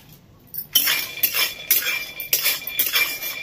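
Peanuts dry-roasting in a pan for a vegetarian papad-and-peanut rice, stirred in repeated bursts that give bright rattling, clinking scrapes of nuts against metal, separated by brief pauses, close and moderately loud.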